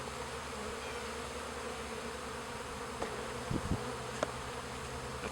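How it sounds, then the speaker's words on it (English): Honey bees buzz steadily around an open nucleus hive while frames are installed, a continuous close hum with a few brief louder passes of individual bees flying near. "I don't roll too many of the bees and possibly the queen while I'm installing these frames"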